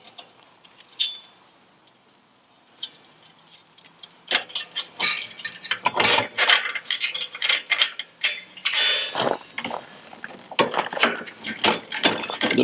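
A support leg on a professional timber trailer is being cranked by hand, giving rapid metallic ratcheting clicks and clinks in uneven bursts that grow louder and denser after a quiet start.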